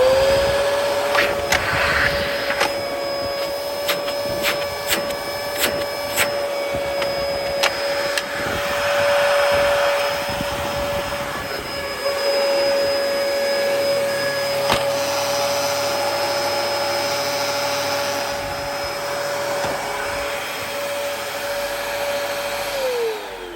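A Dyson DC01 vacuum cleaner runs steadily for the whole stretch, a loud constant motor whine with a fixed high tone, and no voices.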